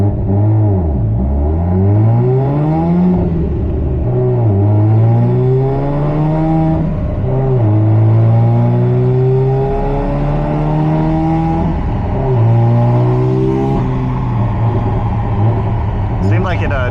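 Mazda RX-7 FD rotary engine revving through a fourth-gear dyno pull, its pitch sweeping upward repeatedly in loud, steady climbs with brief drops between runs, close and continuous throughout.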